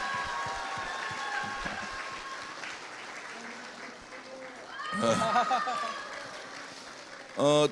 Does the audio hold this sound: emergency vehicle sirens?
no